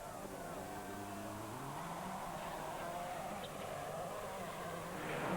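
Richard Burns' Subaru rally car at full throttle on a gravel stage, engine note climbing through the gears as it passes, with a voice talking over the steady roar.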